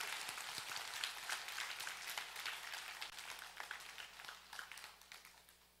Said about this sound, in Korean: 믿는 분들은 주님 앞에 믿음의 박수를 드립니다.